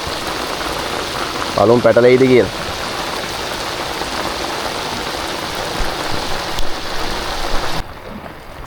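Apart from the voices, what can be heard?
rain falling at sea on a fishing boat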